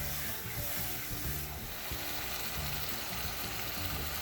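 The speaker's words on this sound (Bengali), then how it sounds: "আদা এবং রসুন বাটা দিয়ে আবার একটু ভালোভাবে নাড়াচাড়া করে মশলাটাকে ভুনে নিচ্ছি।" Ginger-garlic spice paste sizzling and being stirred in a pan for a Hilsa fish curry with coconut, a steady close fry with scraping stir strokes throughout, no talking.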